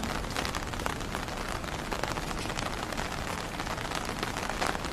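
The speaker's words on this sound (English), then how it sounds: "And yes, the rain comes down" Rain falls on a street in Shanghai, a dense, continuous hiss and patter of drops on hard surfaces that holds steady throughout, with no one speaking.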